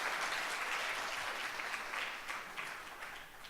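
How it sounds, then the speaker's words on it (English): An audience gives a fairly quiet, steady round of applause to welcome a presenter at a talk, the clapping thinning gradually toward the end. "Please welcome her with a big round of applause."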